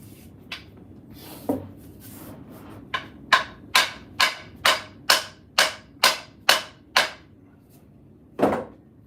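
Hammer blows driving an axe head onto its wooden handle: about a dozen sharp, resonant strikes, a few scattered ones, then a steady run of evenly spaced hits, close up.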